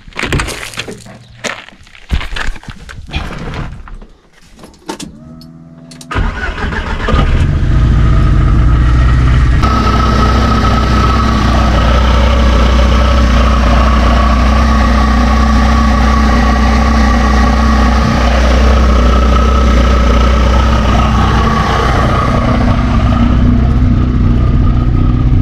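VW Golf 2 with a swapped 1.8 turbo engine: some clanking and shuffling near the car, then the engine cranks, catches around six seconds in and settles into a loud, steady, rough idle recorded close by.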